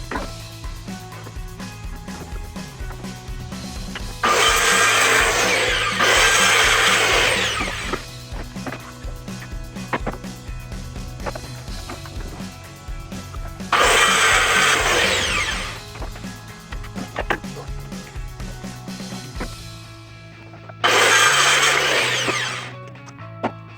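A power saw whines loudly through three separate cuts of a few seconds each into wooden pallet planks, with quieter handling and workshop noise between them.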